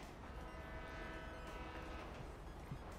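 A bullet train in GTA 5 runs at speed with a steady, loud rumble and a rattling clatter of wheels and carriages, with faint tonal whines riding over the noise and no talking.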